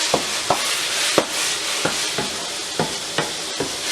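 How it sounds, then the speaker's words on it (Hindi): Minced meat frying with spices in a pan, a steady close sizzle broken by about ten sharp scrapes of a spoon stirring at an uneven pace. "और इन तमाम मसालों के साथ अब हम कीमे को भूनेंगे"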